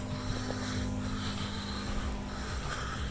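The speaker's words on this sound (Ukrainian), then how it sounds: "Це зовнішній блок теплового насосу, встановлений на кронштейні з віброопорами. Так він зараз працює." A Raymer RAY-15DS1-EVI 15 kW heat pump outdoor unit, mounted on a bracket with anti-vibration supports behind a column, running with a low steady hum and soft airy fan whoosh, quiet and even throughout.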